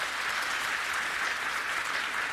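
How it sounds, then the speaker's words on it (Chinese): Dense applause from a church congregation welcoming an elder at an anniversary thanksgiving Sunday service, steady and evenly loud throughout with no voices. "我们拍手欢迎他"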